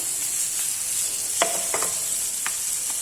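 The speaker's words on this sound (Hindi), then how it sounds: "हम मिर्ची डालेंगे जबरदस्त, थोड़ा सा इसको भून लेंगे।" Chilies frying in a pan for a Lahori chana bhature recipe: a steady, bright sizzle with a few stirring scrapes and clicks near the middle and end, no voices.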